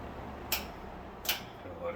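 A Dominion reversible box fan runs in exhaust mode, giving a steady, faint, airy whoosh. Two sharp clicks stand out over the even hum.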